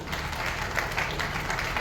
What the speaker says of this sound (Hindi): मेरे को तो लगता है पूरे भारतवर्ष के लिए हमें तालियां बजानी चाहिए